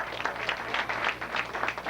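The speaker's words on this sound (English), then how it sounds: "You give yourself a round of applause." Audience applause at an evening fundraising event, a short burst of crowd clapping with a dense, even texture and pulsing peaks, heard alone with no talking.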